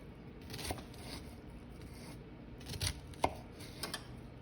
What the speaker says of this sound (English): So all I do is just chop into it like that.